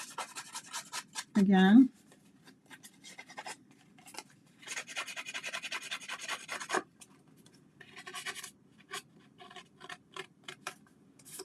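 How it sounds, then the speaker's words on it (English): Scissors distressing the edge of a paper piece for a card design, giving intermittent soft scraping and rasping strokes in bursts, close up, with a short spoken remark early on. "We need to distress the edge first. So I'm just going to do that with my scissors"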